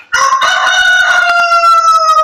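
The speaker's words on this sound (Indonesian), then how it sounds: "Ayam berkokok." A rooster crows once, a loud, close, sustained cock-a-doodle-doo with a rising and then steady tone lasting about two seconds, with no talk over it.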